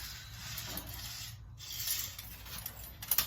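A scribe drawn along wood to mark a line for a site-built guardrail gives soft, close rubbing and scratching strokes, quiet and brief with small pauses between passes.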